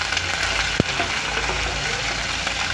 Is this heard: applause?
no